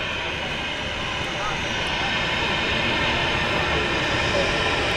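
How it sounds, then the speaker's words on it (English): Engines of a Jet2 Airbus A321 at Manchester Airport produce a constant, full roar that swells slightly louder toward the end, heard from a moderate distance with no clear talk over it. "Jet2 A321."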